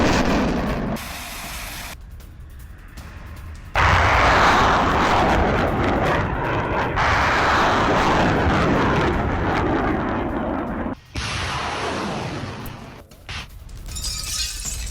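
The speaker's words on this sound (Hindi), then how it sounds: "किस तरह से रूस के एयर डिफेंस सिस्टम ने यूक्रेनी हमले को नाकाम किया" Russian air defense system firing missiles to repel a Ukrainian attack, heard as loud roaring launch blasts and rushing exhaust in several bursts, with sharp cuts and shifts between shots.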